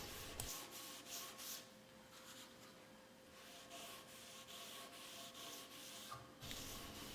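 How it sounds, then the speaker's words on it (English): A lint-free cloth rubs excess Danish oil off a walnut surface in a series of soft, faint wiping strokes, steady and close with no talk. "with a clean lint-free cloth, you wipe off any excess"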